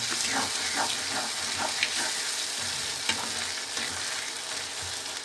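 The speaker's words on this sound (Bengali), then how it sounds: "মাছের পোটা ভাজা হয়ে গেছে" Fish innards sizzle steadily in a pan at home, a soft continuous crackle with faint clinks of stirring, quiet and without speech.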